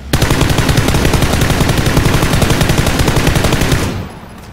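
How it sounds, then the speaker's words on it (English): Sustained automatic gunfire in the battle royale video game PUBG, a loud, rapid, unbroken stream of shots lasting about four seconds before cutting off abruptly. "they're behind me again shooting"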